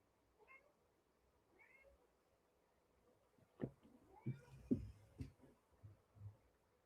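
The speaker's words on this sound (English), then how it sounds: "now she's meowing because she doesn't fit entirely in it." A fat cat stuck halfway in a box gives a few short meows, faint at first and then louder and more frequent, with low bumps and rustling from the box in a quiet room.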